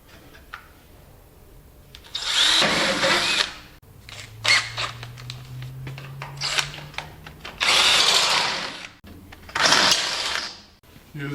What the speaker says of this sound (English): Going to drill some holes through this plate here